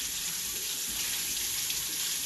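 Running tap water, sometimes hot, pouring over a silicone-style ice cube mold to loosen the ice, a steady close hiss and splash that stays even throughout with no talking.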